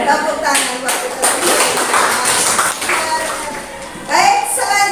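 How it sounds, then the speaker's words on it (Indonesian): A classroom group claps along during a lesson, a burst of hand claps mixed with tapping, heard close and under people talking. "Tepuk tangan buat kita"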